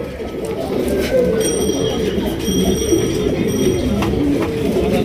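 Pigeons of a fancy breed at a Bangladeshi pigeon market cooing repeatedly in a busy setting, with someone talking over the continuous low murmuring coos.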